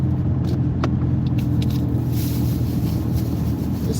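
A car cruising at night along a road with a 55 mph speed limit, giving a steady low engine and tyre rumble that stays continuous and fairly loud throughout, with no talking.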